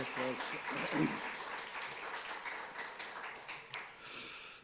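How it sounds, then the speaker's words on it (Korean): A church congregation claps in welcome, a steady wash of applause filling the sanctuary with a few voices mixed in. "인사하실 때 환영의 박수, 격려의 박수 해주시기 바랍니다"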